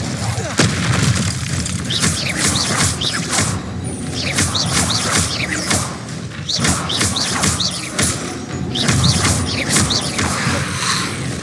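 An Incendio fire spell cast in Hogwarts Legacy: repeated whooshing bursts and heavy thuds land every second or so over a dense, busy game soundscape with mechanical clatter.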